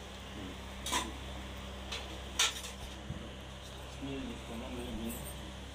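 Several sharp metallic clinks, like a metal pot or bowl being set down, over a steady low hum with faint voices in the background.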